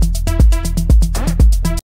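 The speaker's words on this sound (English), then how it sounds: "like those little effects at the end of the bar, like this one" Short Afro House end-of-bar effect: a punchy loop of kick-like thumps and tonal blips with a warbling sweep in the middle, loud and rhythmic, ending abruptly after under two seconds.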